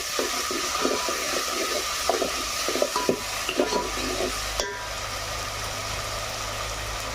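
Ginger-garlic paste and spices frying with onion in a pan for a homemade river crab curry, with steady scraping stir strokes for several seconds over a low hum, then a quieter sizzle.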